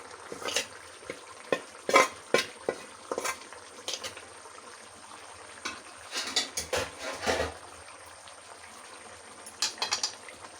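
Jackfruit with onion and chicken masala fries in a pan with a soft bubbling sizzle, punctuated by clusters of close spoon scrapes and knocks against the pan.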